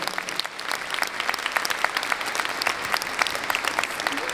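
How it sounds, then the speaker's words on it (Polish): Audience applause fills a charity Christmas and New Year concert hall in Bytom, a dense, steady clatter of many hands clapping close and loud, briefly thinning then continuing evenly throughout. "proszę o brawo"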